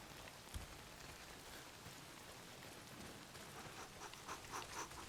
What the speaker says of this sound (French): s'il pleut des cordes, frangin